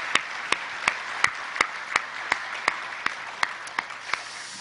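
Sharp, evenly spaced claps ring out one at a time in a slow, regular rhythm over a quiet hum, sounding like a single pair of hands.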